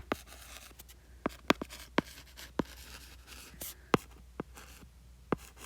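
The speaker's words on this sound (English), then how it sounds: "Let me write this down so you can see it." Pen or marker tapping and scratching across a surface while a calculation is written out, a string of sharp, isolated ticks and short strokes spaced irregularly over a quiet background, close and fairly soft.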